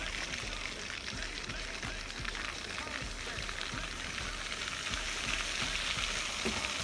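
A stick of butter melting with flour in a pan for bechamel sauce, a steady close sizzle and crackle with soft stirring scrapes running throughout.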